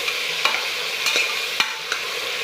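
Onion and tomato sauté together in a pan while a spoon stirs them. A soft sizzle sits under four or five sharp scraping knocks spaced unevenly across the stretch.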